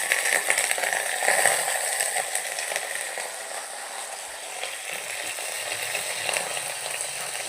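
Curry leaves, mustard seeds, fenugreek and dried chillies fry in a little oil, a steady close hissing sizzle with faint crackles that holds throughout, and no talk.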